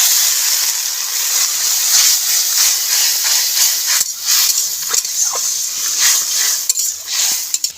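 Water poured into a hot pan of curry with poppy seed, coconut, green chili and mustard paste on a village wood-fired stove sends up a loud, continuous steamy hiss, with occasional clinks of a utensil stirring against the pan.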